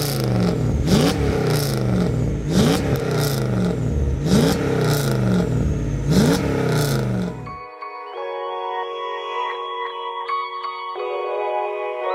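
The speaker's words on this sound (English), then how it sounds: "the revving, that V8, it just sounds epic, man" Raw V8 engine of a 5.5-litre swapped Mercedes C43 AMG track car revs in repeated loud bursts for about seven seconds, then gives way to a clear, steady tonal chime-like sound.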